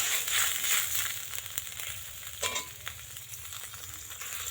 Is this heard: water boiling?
yes